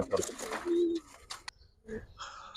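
Giribaz pigeons coo in a loft, a few soft low calls near at hand mixed with scattered chirps and brief rustling noises.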